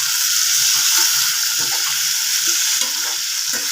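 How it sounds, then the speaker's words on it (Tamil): Jackfruit pieces being sautéed in ghee with fried cashews and raisins, a steady loud sizzle with scattered scraping stir strokes of a spoon in the pan, no voices. "இந்த முந்திரி திராட்சையோடைய பலாப்பழத்தை லைட்டாக வதக்கணும்."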